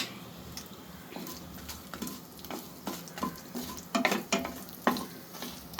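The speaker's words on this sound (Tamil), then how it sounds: "கடுகு சீரகம் ரெண்டு காஞ்ச மிளகா ரெண்டு குண்டு காஞ்ச மிளகாவை போட்டு தாளிக்கிறேன்" Mustard seeds and dried chillies crackle and pop in hot oil, a steady sizzle punctuated by sharp little spatters, close and without speech.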